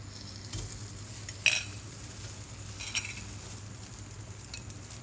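Sticky rice cakes brushed with egg sizzle softly in a pan, a low steady frying hiss broken by a couple of light clinks of a utensil.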